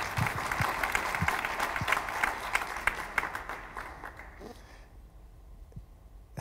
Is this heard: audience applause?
yes